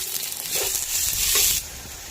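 Onions dropped into hot oil with chillies in a village kitchen cooking a Hyderabad-style chicken gravy, a steady hiss of sizzling that swells briefly as they land, then settles back.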